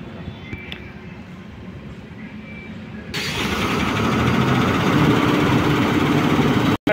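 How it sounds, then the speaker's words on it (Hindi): A 250-horsepower Ashok Leyland 4825 BS6 tipper truck from 2024 starts up partway through and settles into a loud, steady diesel rumble close by. A low background hum runs beforehand, and the sound cuts off abruptly at the end. "4825 टिपर फुल्ली एसी के साथ 250 हॉर्स पावर इंजन"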